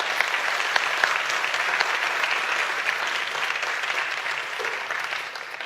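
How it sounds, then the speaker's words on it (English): A conference keynote audience applauds its volunteers, a dense, steady wash of clapping from many hands that holds for several seconds and then gradually thins. "let's give them a round of applause and thank them for their help."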